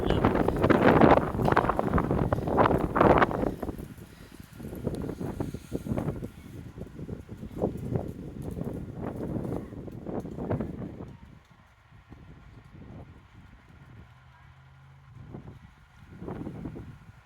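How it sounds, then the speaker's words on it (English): Strong gusts of wind blowing outdoors on a rough day, loud and rushing at first, then easing into lower, intermittent buffeting with quieter gaps. "Been a rough, windy day."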